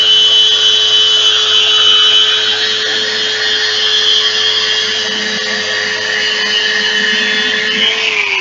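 A random orbital sander on wood whines steadily and loudly for the whole stretch, with a constant high-pitched hum and a slight drop in pitch near the end; no one speaks.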